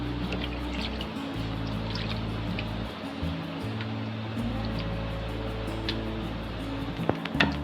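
Milk and water pour into a pot of beef curry for Eid-style beef pasanday, a soft continuous trickle and liquid splash over a low steady background hum, with no talking.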